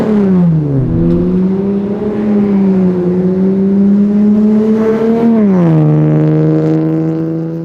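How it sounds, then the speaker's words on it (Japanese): A Toyota Chaser Tourer S (JZX100) naturally aspirated engine drones loudly and steadily through an aftermarket exhaust, its pitch shifting up and down through revs, with a continuous rumbling exhaust note and no talking. "ずっとなんかこう吐き出してるマフラーサウンドっていうのかなっていうのが出る"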